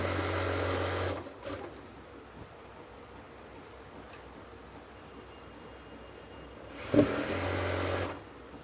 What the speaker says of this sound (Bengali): এইভাবে আপনারা রাবারটা ধরে সেলাই দিতে হবে।